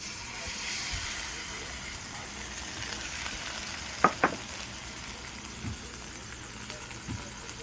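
Onions frying in a pan with ginger paste added make a quiet, steady sizzle, broken by a couple of sharp utensil taps and faint stirring knocks.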